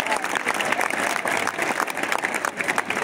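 Schoolchildren and teachers applaud at a Children's Day school visit, a lively, dense crowd clapping heard close and loud throughout, with a little crowd murmur mixed in.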